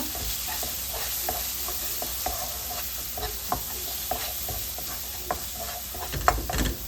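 Spices for aloo masala frying in a pan, a steady sizzle carried under repeated scraping strokes of a spoon stirring the mix, close and continuous with no talking.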